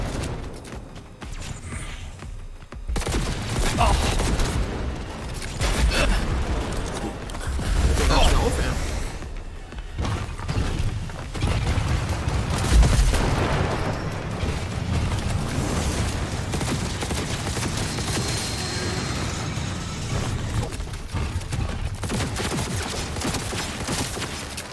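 Gunfire in the video game Cyberpunk 2077 Phantom Liberty, dense bursts of shots and booms running throughout under someone talking excitedly.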